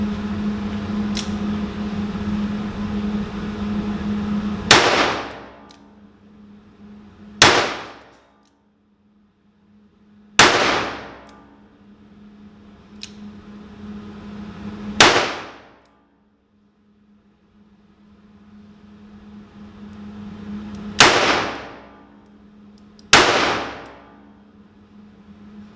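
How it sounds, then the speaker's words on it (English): A Rossi 671 .357 Magnum revolver fires .38 rounds outdoors, first in single action and then in double action. Six loud, close shots come at uneven intervals, each with a ringing decay, over a low hum. "We're going to take a couple of shots and see how it goes."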